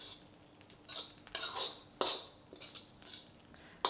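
Fried rice with green onions is stirred in a pan, making light, uneven clinks and scrapes of a utensil against metal in short bursts, close and clear with no talk.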